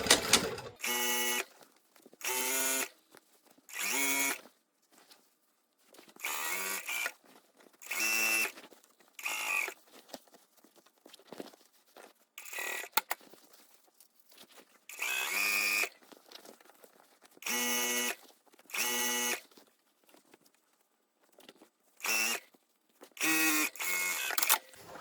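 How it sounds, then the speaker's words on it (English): A sewing machine stitches denim jeans in repeated short bursts of rapid mechanical whirring, roughly a second or two each, separated by quiet pauses, with no speech. "let's sew."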